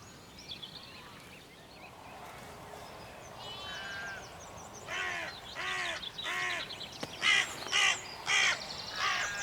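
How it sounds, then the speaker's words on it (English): Hooded crows caw in a series of harsh, repeated calls, faint at first and then louder and closer in spaced bursts of two or three caws, outdoors with no talking. "2 hooded crows came swooping down in from a tree behind me"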